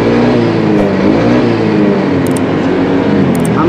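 A car engine run on a Juken 5+ ECU revs steadily and loudly at cold temperature, around 30 degrees, holding a constant drone close by with no talk.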